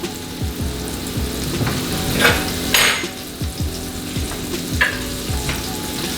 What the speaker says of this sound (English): you're gonna let those just kind of saute here and get nice and brown